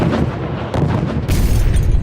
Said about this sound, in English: An explosion at a Bloomington Islamic Center caused by an improvised explosive device.